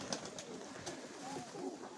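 Pigeons kept in a village loft coo softly in a steady low murmur, with a few light flutters and knocks, fairly near and without talk.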